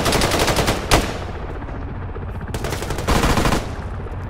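Rapid assault rifle fire in a video game, loud dense bursts of automatic shots crackling in quick succession with brief gaps between volleys.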